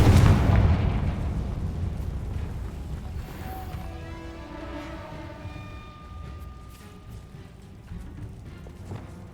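A Confringo spell explosion in Hogwarts Legacy, a loud booming blast at the start that decays into a long rumbling tail, with faint tonal game effects ringing on underneath and no talk.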